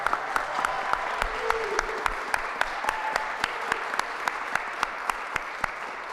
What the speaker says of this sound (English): I think we should give a huge round of applause to Anna Jane Yolkin.